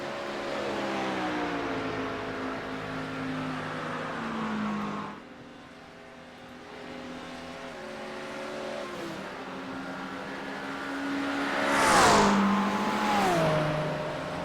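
GT3 race cars in a video game accelerate up the long Road America straight, several engines droning and rising in pitch together, a steady loud roar with another car screaming past near the end.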